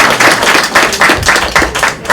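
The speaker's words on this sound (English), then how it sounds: "Let's give him a round of applause" An audience at a housing forum claps for a speaker, a burst of dense, fairly loud applause with rhythmic hand claps throughout.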